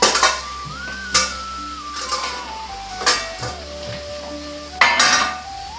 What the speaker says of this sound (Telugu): ఉల్లిపాయలు అల్లం పేస్ట్ వేగిన తర్వాత నేను టమాటా కూడా వేసేసుకున్నానండి.